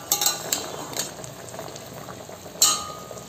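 Chicken masala simmers in water in a pot, giving a soft bubbling hiss broken by a few sharp clinks of a spoon against the metal.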